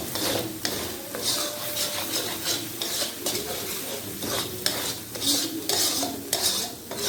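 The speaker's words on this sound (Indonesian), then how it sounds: "masukkan gula dan juga garam, diaduk." Cucumber pickle being stirred with sugar and salt, likely in a pan over heat, giving a steady scraping and clinking stir with a soft sizzle beneath, close and continuous.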